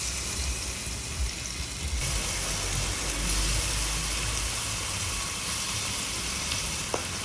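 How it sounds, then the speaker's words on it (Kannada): Fish sizzling in oil on a dosa tava over low flame, a continuous soft crackling fry with a gentle hiss that swells slightly after a couple of seconds, steady and close. "ಇವಾಗ ನೆಕ್ಸ್ಟು ಮೀನು ಹಾಕ್ತಾ ಇದ್ದೀನಿ ದೋಸೆ ಕಲ್ಲಿನ."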